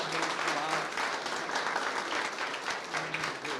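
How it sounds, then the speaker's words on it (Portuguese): A church congregation applauds, with steady, dense clapping that fills the room at full volume and holds throughout. "Aplauda o Senhor."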